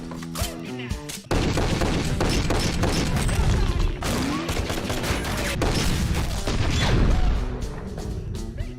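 Gunshots at a shooting training session in the film The Mechanic, heard as a dense, loud run of overlapping shots and impacts with brief pauses, continuing for several seconds.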